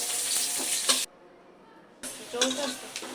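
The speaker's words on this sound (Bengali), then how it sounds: "এদিকে পেঁয়াজ দিয়ে দিল, এখন নাড়াচাড়া করতেছে। এখন এগুলো ভাজা হবে" Onions frying and being stirred in a pan, a broadband sizzle with scraping strokes, cut off for about a second of near silence before the frying resumes.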